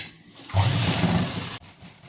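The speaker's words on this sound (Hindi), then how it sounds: "इस तरह से मिलाते हुए यहाँ से लेकर यहाँ तक हम सिलाई लगा देंगे। इसको हम डबल सिलाई कर लेंगे इस तरह से।" A sewing machine stitches a double seam on an A-line palazzo, giving a single close, fast mechanical whirr of about one second between quiet moments.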